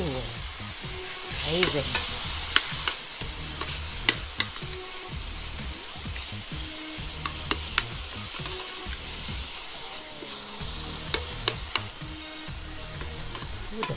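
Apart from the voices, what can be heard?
stirring sizzling spaghetti sauce in pan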